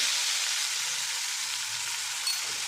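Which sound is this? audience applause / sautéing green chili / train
sautéing green chili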